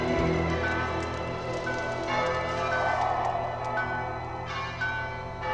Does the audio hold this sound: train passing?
no